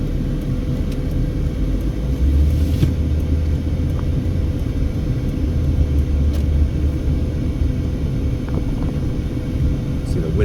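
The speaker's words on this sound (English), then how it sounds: "The winds have really picked up now." Strong windstorm gusts buffeting trees in a Las Vegas neighborhood off Boulder Highway, a loud steady low rumble of wind across the whole stretch with a brief stronger swell near the start, voices talking faintly underneath.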